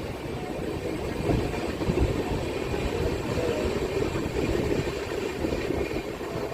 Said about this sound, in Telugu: వెనకాల హైదరాబాద్ బండి వస్తుంది.